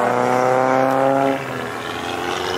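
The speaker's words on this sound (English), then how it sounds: "That boy had a supercharger popping though." A supercharged car at a car wash meet gives off a loud whining, droning note with stacked harmonics that cuts off abruptly partway through and leaves quieter engine noise behind.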